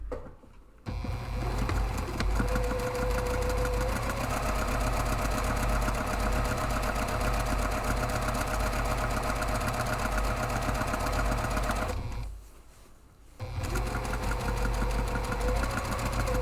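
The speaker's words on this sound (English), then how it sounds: "start sewing right on the seam" A sewing machine stitches a seam on a large padded camera bag, running in a steady rapid hum for about eleven seconds, pausing briefly, then starting up again nearby, with no one talking.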